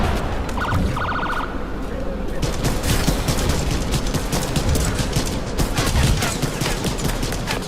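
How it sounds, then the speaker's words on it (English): Dense, sustained gunfire rattles continuously across a town in the video game ADACA, a loud barrage of rapid shots with no pauses and brief mechanical clanks early on. "They're firing on the town"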